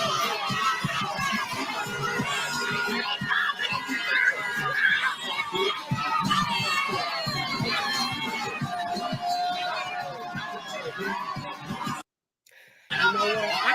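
A loud crowd on Broadway with many overlapping voices shouting and chattering, some higher-pitched like children, filling the scene continuously before a brief dropout near the end.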